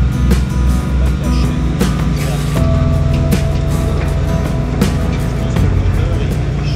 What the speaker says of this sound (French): Petit moteur se trouve sur le bac et permet à ce dernier de se déplacer le long d'une chaîne qui traverse la Charente.